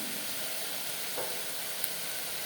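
Sambar ingredients sautéing in a pan make a soft, even sizzle with a faint clink partway through, heard close and alone.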